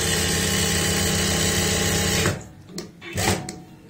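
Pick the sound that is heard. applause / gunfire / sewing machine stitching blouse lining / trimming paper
sewing machine stitching blouse lining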